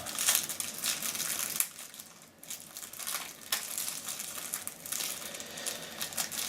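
Plastic wrapping on a card game package crinkles and crumples as it is torn open, a steady close rustle that briefly drops off before resuming in loud, uneven bursts.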